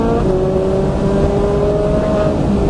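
A Ferrari 458 Italia or Nissan R35 GT-R on a Las Vegas race track, its engine droning loud and steady close by, pitch holding then easing as the car shifts up.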